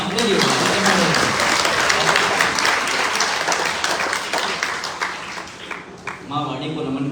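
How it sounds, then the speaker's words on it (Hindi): An audience at a Sanatan Dharma religious gathering in Jhajjar, Haryana breaks into loud, sustained clapping that fills the space, gradually thinning toward the end as a voice begins. "एक बार जोरदार तालियां अपने लिए"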